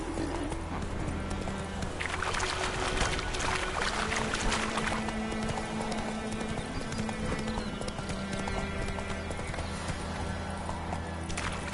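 Steady galloping clip-clop of horse hooves in The Witcher 3, continuous and close throughout, riding over a constant game music bed with no voices.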